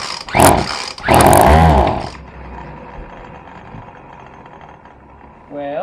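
A small engine, just back from a throttle repair, gives two short, loud sputtering bursts as it is cranked, then dies into quiet background, and a voice comes in at the very end.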